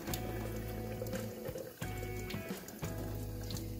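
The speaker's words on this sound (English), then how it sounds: "simply take it over to a sink and rinse it off" Water running from a tap into a sink while a freshly laser-marked metal wrench is rinsed off, a steady splashing flow with two brief breaks where the stream is interrupted.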